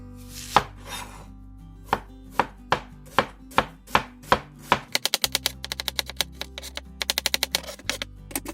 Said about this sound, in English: Chop the onion.